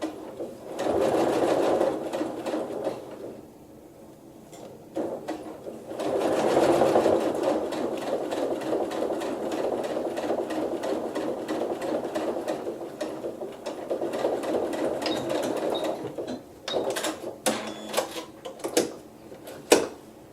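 A sewing machine stitches along a basting line while quilt trim and sashing are joined. It runs in steady bursts with a brief slowdown, then continues evenly and ends in a few short stops and starts. The sound is close and clear.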